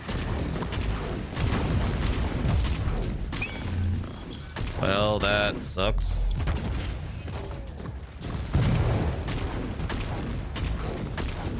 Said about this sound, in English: Explosion took out my entire group.